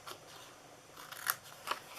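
Scissors cut a craft piece along a score mark, giving two quiet, crisp snips a moment apart near the end, with faint handling noise before them.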